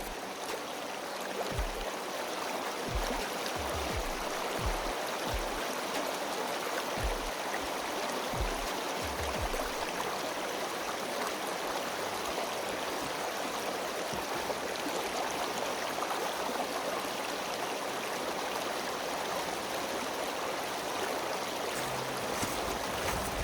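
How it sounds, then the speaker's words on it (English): A flowing stream in the Pennsylvania woods in fall rushes steadily and broadly throughout, close and constant, with a few low thumps like footsteps near the start. "I'll be following the stream for quite a bit."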